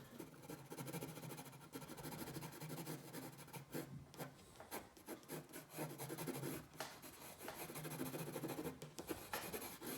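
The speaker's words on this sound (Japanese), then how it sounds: "擦筆ってこういうやつですね、こういうやつでこすったりして反射光を表現してあげるといいと思います" A paper blending stump rubs over a pencil drawing of an apple on drawing paper, making continuous close, scratchy back-and-forth strokes that stay loud and steady throughout.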